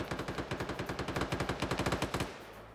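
Rapid automatic gunfire in a PvP video game match, a steady rhythmic burst of about twenty close, loud shots that stops abruptly near the end, leaving a low hum.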